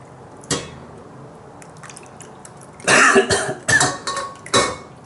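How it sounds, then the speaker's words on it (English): A few short coughs up close, one early then a cluster of rough bursts near the end, with light handling noise between. "Makes you cough a little bit."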